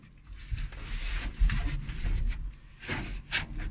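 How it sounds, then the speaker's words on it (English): A screwdriver scrapes and grinds as it is jammed under a nut on a car's rear beam, giving close, uneven metallic rubbing in several bursts with no speech. "I can jam a screwdriver under here to lift this nut up a bit higher."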